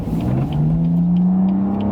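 A BMW M4 CS engine in Sport Plus mode pulls hard under acceleration, a loud close rising drone with a steady climbing pitch and no talk.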